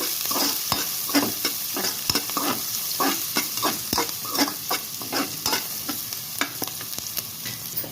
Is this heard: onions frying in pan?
yes